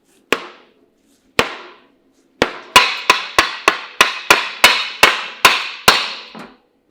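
Metal tool blows strike a school bus differential cover at close range, two isolated hits and then a fast regular run of about a dozen sharp, ringing whacks, each decaying briefly, with no talking.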